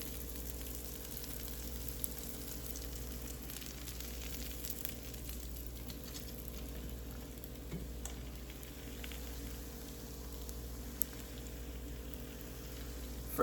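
Jamaican fish steak sizzles steadily in hot oil, a soft, even crackle like light rain with a low background hum and no talking.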